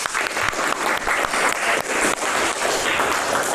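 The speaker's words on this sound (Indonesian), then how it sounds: "Ya, kita beri tepuk tangan dulu." A classroom of students claps together after a group presentation on a laundry service business, a dense burst of many hands sustained throughout, loud and close with no talk over it.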